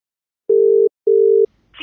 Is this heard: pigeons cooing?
no